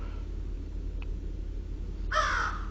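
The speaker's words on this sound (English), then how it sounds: "that's a creepy sounding crow" A single harsh crow caw rings out near the end, loud and raspy over a low steady hum, after a brief faint click.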